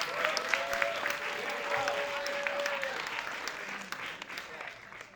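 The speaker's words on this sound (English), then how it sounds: "Clap it up, everybody" Applause from an audience at an ACT UP Harlem community event, a steady wash of clapping running the full length at moderate level, with a sustained tone or whistle rising briefly over it early on.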